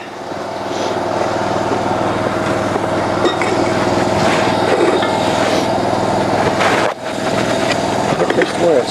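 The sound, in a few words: cold water jetter engine running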